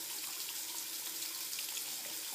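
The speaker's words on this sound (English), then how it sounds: "You're going to go ahead and you're going to start up a little lukewarm water." Lukewarm water runs steadily from a faucet into a sink, a close, even hiss and splash with no breaks or voices.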